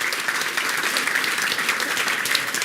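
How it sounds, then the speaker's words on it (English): Meetup audience at a tech talk on parcel delivery gives a speaker a lively round of applause, dense even clapping throughout, close and loud. "Please give Ravi a big applause."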